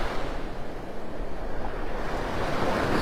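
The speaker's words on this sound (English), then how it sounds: "The water's churned up this morning because of the waves, that wind coming in off the Gulf." Gulf of Mexico surf breaking steadily on Vanderbilt Beach in North Naples, Florida, with onshore wind rushing across the microphone; a continuous, fairly loud wash of waves and wind with no voices.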